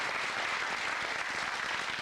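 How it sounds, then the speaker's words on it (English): A studio audience on a 1990 TV game show applauds in a dense, even wash of clapping that runs steadily throughout. "let's have another nice round of applause"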